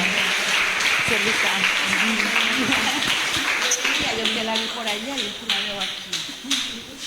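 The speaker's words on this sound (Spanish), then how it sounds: "Denle un fuerte aplauso al Señor" Church congregation applauding during a service, a full burst of clapping that gradually thins out while a voice continues speaking over it.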